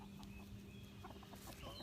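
Soft, quiet clucking from chickens nearby, a few short scattered calls over a faint background hum.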